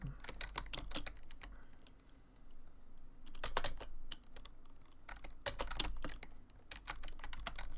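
Someone types on a computer keyboard, entering text for a card in an old game, with quick bursts of clacking keystrokes separated by short pauses, close and clear with no talking.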